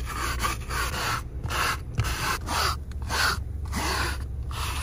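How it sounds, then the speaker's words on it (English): A bristle brush scrubs foam cleaner into a car's carpet fibers, producing steady, close, repeated rasping strokes in an even back-and-forth rhythm with no talk. "Rub foam into carpet fibers with bristle brush until foam disappears."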